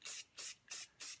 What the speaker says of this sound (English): I spray it on my finger, normally my middle finger.